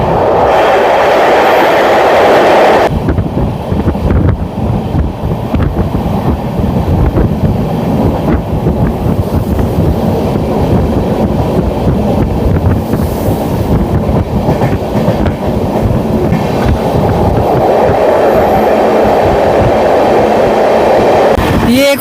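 Guwahati-Sairang Express passenger train running on the new line to Aizawl, Mizoram, with a continuous loud rumble and rail clatter heard from on board, steady throughout with some wind buffeting.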